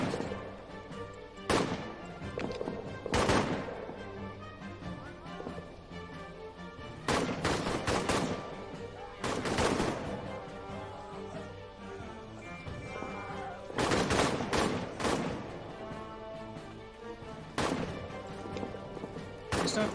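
Repeated bursts of gunfire in a trench-warfare video game, loud sharp volleys of shots and machine-gun fire at irregular intervals over a steady background din, with no talk.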